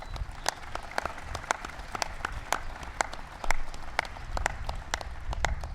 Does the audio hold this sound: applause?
yes